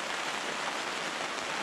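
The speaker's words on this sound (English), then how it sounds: "Sorry about the rain noise. There's not a great deal I can do about the weather." Steady rain falls outdoors, a soft, even hiss of drops on surfaces, continuous and fairly faint, with no voices.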